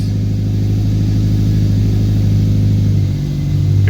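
Subaru STi engine fitted with new Tomei headers, a deep, steady low rumble held close and loud, idling high or revving evenly, with a slight shift in pitch near the end.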